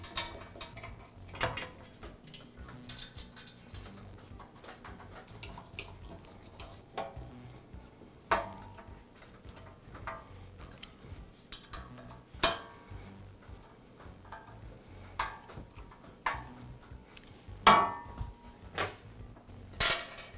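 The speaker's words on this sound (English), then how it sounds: "I'll align the cover with the frame and secure it with the screws" Screws are driven in to secure the cover of a DeWALT air compressor during an O-ring repair: sparse, faint metallic clicks and taps spread unevenly over a quiet room.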